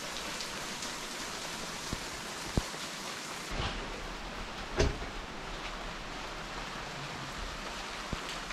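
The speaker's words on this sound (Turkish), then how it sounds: "Dışarıda çok güzel bir tropik yağmur var şu anda." Tropical rain falls steadily outside a bungalow balcony in Thailand, making a constant hiss with occasional louder drips and taps.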